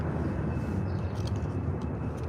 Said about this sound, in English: I don't know if it's gonna be hard to hear too with the airplanes.